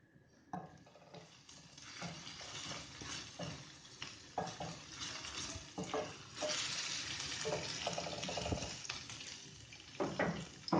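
Garlic and green chili fry in vegetable oil in a pan, giving a continuous close sizzle. Frequent scraping and clinking stir strokes sound over it, with no talking.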